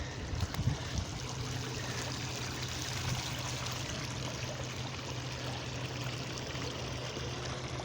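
A creek flows in a continuous soft wash of water, steady and moderately distant, with a low hum beneath and a few light knocks near the start.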